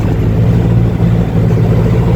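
A 5455 tractor with a modified injection pump strains while pulling a subsoiler, its heavy diesel engine giving a loud, steady low rumble close by, with no talk.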